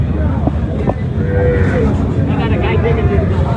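Cattle and calves at a busy livestock market in a border area, including a Sahiwal-cross calf, with lowing and moos rising over a dense, constant crowd din of voices and movement.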